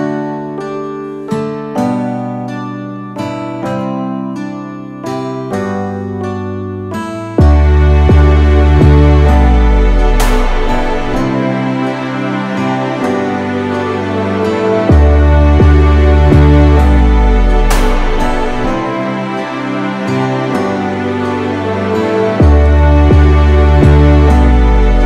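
A prog rock arrangement layering acoustic guitar with a Rhodes electric piano, opening as a sparse plucked passage before a full, loud band mix with deep bass swells comes in and carries on steadily with no talking.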